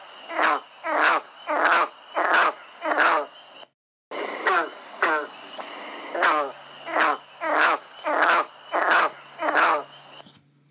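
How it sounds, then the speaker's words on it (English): A summer frog near Hamilton repeats a twangy, plucked-banjo call about ten times in a steady rhythm, each note clear and fairly close, with a short gap partway through. "They have a call that is very much like a twang of a banjo."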